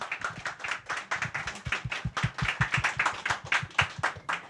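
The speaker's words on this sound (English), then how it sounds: "let's have a big round of applause for our panel" A small audience at a club lunch panel on boardroom diversity in Hong Kong claps in a brief round of applause, individual hand claps distinct and fairly close, moderately quiet, without speech.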